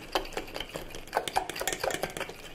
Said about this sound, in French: On mélange avec le fromage blanc.